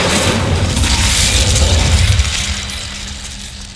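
An Incendio fire spell is cast in a Harry Potter video game: a loud, rumbling burst of flame that roars for about two seconds, then fades into a low hum.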